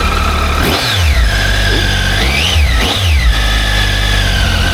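A Triumph Tiger 800 motorcycle engine idles loud and close, then three throttle blips rise and fall in pitch, two of them in quick succession, with a steady mechanical whine underneath.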